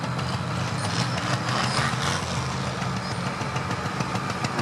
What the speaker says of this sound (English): Big old single cylinder tractor, pushing about 50 horses there.